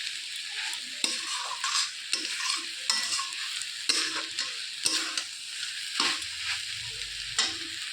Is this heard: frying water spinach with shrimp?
yes